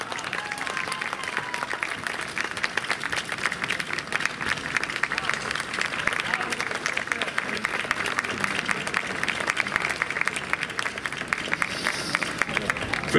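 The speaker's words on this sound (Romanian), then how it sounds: "Iată aplauze pentru Maschelad." Sustained audience applause fills a festival hall at an Armenian cultural festival in Bacău, a dense, steady wash of many hands clapping for the full duration with faint crowd noise underneath.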